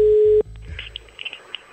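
A steady telephone line tone comes through a call-in line on an Italian radio show, loud and unbroken for under half a second before it cuts off abruptly, leaving faint scattered clicks and line noise.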